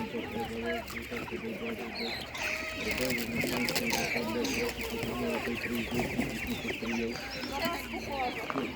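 Broiler chickens cluck and squawk continuously close by at an animal market while a person talks over them.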